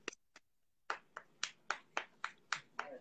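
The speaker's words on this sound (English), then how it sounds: "You know what they call that? That's the golf clap." Light, polite golf clap: a few quiet hands tapping in an indoor gathering, about a dozen soft, evenly spaced claps after two stray ones, with no talking.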